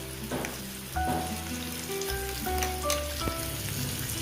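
Ridge gourd pieces frying in oil in a kadai, a steady close sizzle with light crackling, with faint tonal clinks and background music layered over it.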